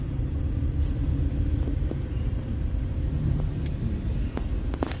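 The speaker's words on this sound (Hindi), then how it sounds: "यहाँ पर गाड़ी में थोड़ी सी स्लो कर लेता हूँ" A car rolls slowly along the Yamuna Expressway with a continuous low engine and road rumble from inside the cabin, plus a few faint light clicks and taps.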